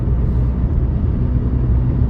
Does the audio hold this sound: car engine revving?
yes